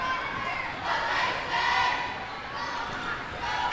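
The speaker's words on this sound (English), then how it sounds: "We have the Monarchs freshman JV team doing a cheer in front of us" A Monarchs freshman JV squad shouts a group cheer at a high school volleyball match in a gym, chanting voices rising and falling over crowd murmur in a reverberant hall.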